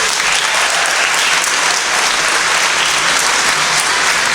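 Loud, dense applause from a crowd filling an elementary school moving-up ceremony, an even wash of many hands clapping without pause.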